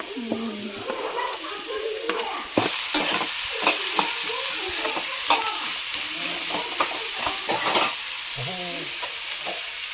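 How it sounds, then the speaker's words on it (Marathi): Onions frying in oil in a village kitchen, with a steady crackling sizzle and repeated spatula scrapes and taps stirring through the pan for the whole stretch, fairly loud and close, with no talking. "तर कांदा भाजून घेऊया तोंडीला राहू दे काय तेलामध्ये भाजायचं आहे ना"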